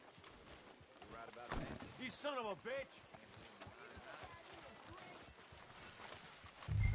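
Horse hooves clip-clop steadily in Red Dead Redemption 2, a quick walking rhythm that runs under game dialogue, with someone shouting over it.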